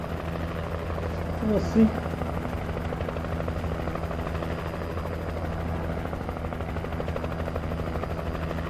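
A steady helicopter drone in the Alan Wake Remake video game on PS5 hums continuously throughout, with someone briefly speaking over it early on.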